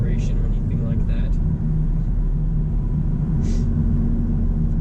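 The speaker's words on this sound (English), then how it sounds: "we're going to jump on the interstate here just to get it up to a little bit higher speed so we can see how it drives there" A 2018 Ford F-350 pickup cruises along the interstate in traffic, its steady low road rumble and engine drone filling the cabin continuously, with a couple of faint higher swishes from passing vehicles.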